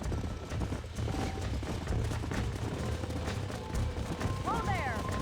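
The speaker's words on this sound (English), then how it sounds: "There's the horses! Get that lasso ready!" Horses gallop across open ground in Red Dead Redemption 2 as a steady clip-clop of hooves under a busy game soundscape, with a short neighing whinny near the end.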